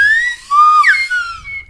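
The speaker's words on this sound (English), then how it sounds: "That was a reverse slide whistle." A reverse slide whistle blown in a quick glide, its pitch sweeping up, peaking sharply, then falling back, loud and close with no talking over it.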